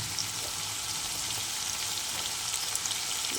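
Bombay duck (loitta) fish dropped into hot oil over spiced masala for a spicy curry, giving a steady, loud, close sizzle and crackle of frying that runs throughout with no talking.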